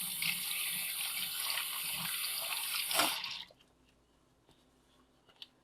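Tap water runs steadily for about three seconds during a quick rinse while making street tacos, then stops abruptly, leaving near silence broken by a few faint drips.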